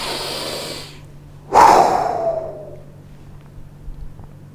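One deep, forceful breath is taken during an EFT tapping session, a close, loud airy rush that fades out gradually, with softer breathing before it.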